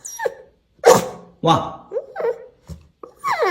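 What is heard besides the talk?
dog barking in Instagram video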